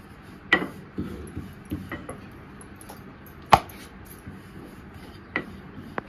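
Dull, soft knocks and faint scraping from a rolling pin moving over stuffed puran poli dough, with a few sharper taps at irregular intervals against a quiet kitchen background.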